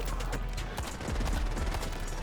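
Enemy gunfire in a Dragon Storm shooter game, a dense rapid crackle of shots rattling on continuously, loud and close, with no pause.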